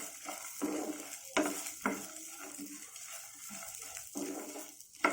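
Lentils, ginger and green chillies frying in a pan for chutney, a soft continuous sizzle broken by several sharp stirring scrapes of a spoon against the pan, close and alone.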